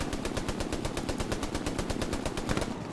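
Steady, fast, rhythmic automatic gunfire in the World War II shooter Hell Let Loose, a long unbroken burst at moderate distance without talk.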